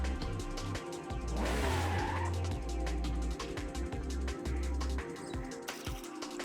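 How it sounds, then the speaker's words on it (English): Car tyres slipping and squealing in Forza Horizon 5, a sustained near engine drone with a brief rising screech of rubber over a constant low hum. "tyres are slipping"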